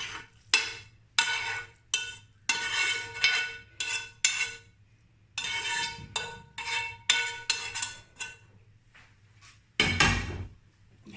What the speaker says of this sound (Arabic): نحاولوا اننا نحركوها مزيان، نخلطوا السفله مع هاد الخضره